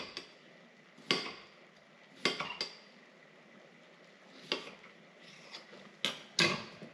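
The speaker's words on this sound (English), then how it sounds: "we're adding in some onions and potatoes" Onions and potatoes tumbling into a pan for sauteing while Japanese curry is being made: a few sharp clattering hits and scrapes spaced over several seconds, with quiet stretches between them and no talking.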